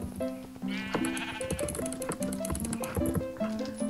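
Sheep bleating in Minecraft, several short wavering bleats repeated over game background music and clicking sounds, fairly loud and close.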